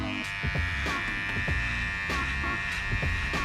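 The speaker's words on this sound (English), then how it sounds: "now we're going to use our cordless Wahl detailer LI to get the hair nice and tight to the skin" A cordless Wahl Detailer Li hair trimmer buzzes steadily and close up while cutting hair tight to the skin, its hum broken by repeated faint rasping strokes.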